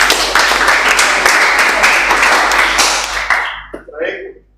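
A classroom of students claps together in a loud, fast burst of applause that continues for a few seconds and then stops abruptly, leaving brief quiet with a few faint sounds.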